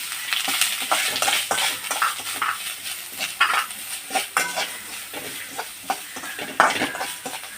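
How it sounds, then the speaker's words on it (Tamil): Grated coconut roasting in a pan for aval laddu, a soft dry sizzle under frequent quick scraping and tapping strokes of a spoon against the pan, close and busy with no voices. "இது கூடவே நம்ம வந்து இந்த தேங்காயும் போட்டு வறுத்துடலாம்"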